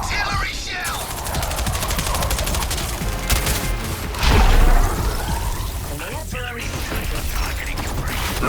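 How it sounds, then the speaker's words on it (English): Artillery shells pound down during a Suicide Squad: Kill the Justice League battle, loud rattling bursts and mechanical clatter with a heavy impact midway, while character voices talk over the din. "Artillery shell!"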